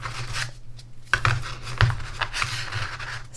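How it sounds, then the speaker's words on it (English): A thin deck of oracle cards is riffle shuffled, giving soft papery fluttering and rubbing, with two brief sharper snaps as the halves interleave, close up and fairly quiet with no talk. "So you can riffle shuffle."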